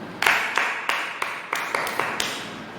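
A small congregation applauds to welcome the sermon at a Hindi Christian prayer service, sparse clapping in a few loose, evenly spaced bursts, fairly close and moderately loud.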